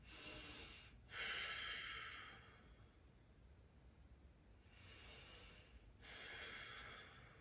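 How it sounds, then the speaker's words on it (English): Slow, audible Ujjayi breathing during a yoga practice, long hissing inhales and exhales through a constricted throat, close to the microphone, repeating in an even rhythm with no talking. "I'm going to focus on my Ujjayi breath here for a few breaths"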